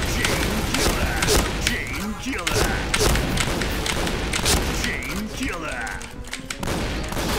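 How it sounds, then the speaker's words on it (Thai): Explosions and gunfire in a shooter video game, a dense barrage of booms, thuds and rapid shots with a player talking over the action. "เฮ้ยระเบิด"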